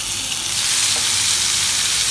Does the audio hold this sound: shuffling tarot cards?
no